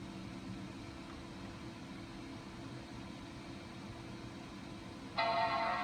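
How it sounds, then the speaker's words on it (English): A 2008 Mac Pro sounds its startup chime near the end, a single sudden tone over a steady fan and computer hum. "Nice solid chime."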